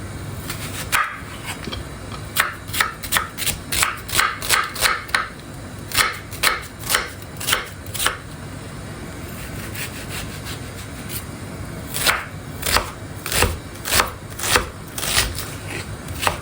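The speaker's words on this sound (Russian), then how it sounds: "Тем временем подготовим с вами репчатый лук. Просто мелко его нарежем." A knife finely chops onion on a board in quick bursts of crisp, rhythmic cuts, pausing briefly before resuming, close and clear with no talking.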